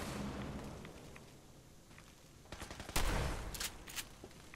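Plasma rifle firing in Fallout 4, a few sharp bright crackling blasts clustered near the end after a quieter rumbling stretch, fairly close and unaccompanied by talk.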